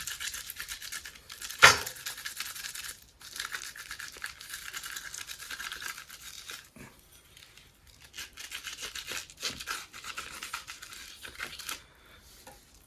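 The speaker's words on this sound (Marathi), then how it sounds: "लिंबाने ह्या पद्धतीने असं बर्नर चोळून घ्यायचं आहे" A gas stove burner being scrubbed with a lemon, a steady close-up rubbing and scraping texture with one sharp louder scrape early on, then brief pauses between strokes.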